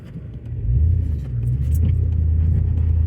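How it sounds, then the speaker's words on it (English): An off-road vehicle in four-wheel drive crawling over slimy, rain-soaked Iowa field ground on Thunderer Ranger A/TR LT tires, a loud steady engine rumble that swells and holds close up. "we're gonna go four-wheel drive."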